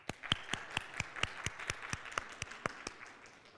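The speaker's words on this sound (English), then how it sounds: "Guys, can we clap one more time just for Lauren?" A small audience claps in quick, evenly spaced, distinct hand claps at a close, moderate level, thinning and softening toward the end.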